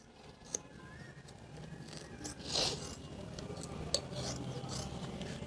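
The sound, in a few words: cutting a tube in half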